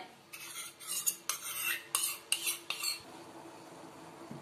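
A spoon stirs a coffee pudding mixture in a pan, scraping in about six quick rhythmic strokes close by, then falling quiet with only faint room hiss.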